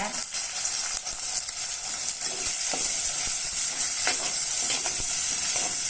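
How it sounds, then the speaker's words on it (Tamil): Garlic and onions sautéing in hot oil, with mustard seeds already popped, for a bitter gourd kara kuzhambu: loud, steady close sizzling and crackling throughout, with intermittent stirring scrapes, no talking. "வெங்காயம் நல்லா வதங்கட்டும்."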